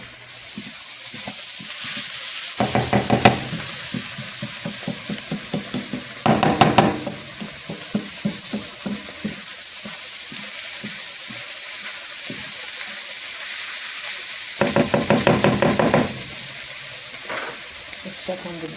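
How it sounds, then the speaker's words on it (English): Onions caramelizing in oil in a pan for hibachi beef fried rice, a steady close sizzle and crackle punctuated by several louder bursts of stirring and scraping. "our onions are getting there. They're caramelizing slowly."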